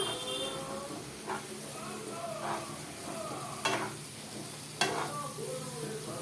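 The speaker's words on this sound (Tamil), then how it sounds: "புளியை போட்டு நல்லா வணக்கிக்கலாம்." Tamarind paste being stirred and sautéed in a pan for garlic pickle, a steady close sizzle with a few sharp scraping stirs of the spoon against the pan.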